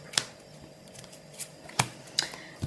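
Cards being handled and shuffled for a second draw, a few sharp, separate snaps and riffles spaced irregularly over quiet background, close and fairly soft.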